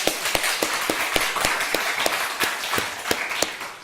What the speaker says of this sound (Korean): 이런 은혜를 주신 하나님 앞에 감사 박수 한번 쳐요.